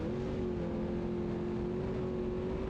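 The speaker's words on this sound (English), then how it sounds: "Ken Block back on the throttle" An off-road race truck accelerates during the Vegas to Reno desert race, a steady droning engine note holding at a constant pitch, heard from a distance or inside the cab.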